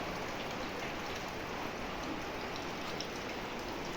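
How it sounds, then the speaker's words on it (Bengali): Steady rain falls after a night of heavy downpour, a dense, even hiss of drops on surfaces that stays constant and close throughout, with no voices. "এই দেখো কীরকম বৃষ্টি পড়ছে।"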